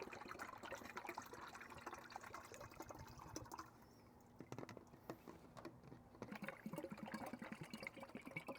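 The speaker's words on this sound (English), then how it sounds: "Brake fluid ASMR." Brake fluid is poured into a container while a pressure brake bleeder is prepared for a brake flush. Faint, close liquid trickling and splashing comes with small clicks and taps of handling, and there is no talk.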